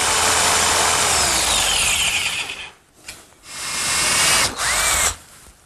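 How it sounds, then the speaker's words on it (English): A jigsaw cuts out a slot in wood between two drilled holes, its blade buzzing loud and close in a continuous rasp that briefly drops off twice before resuming, with no voices. "I'll clean it out with my jigsaw."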